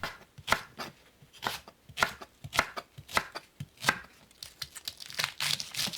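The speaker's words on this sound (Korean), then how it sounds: "파를 썰어 주세요." A knife chops green onion on a cutting board in a steady run of crisp, close taps, roughly a dozen strokes at an even rhythm, with no talking.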